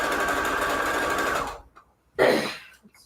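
A sewing machine stitches fabric scraps together, a fast steady whir that runs, stops, then starts again in a short second burst, close and clear.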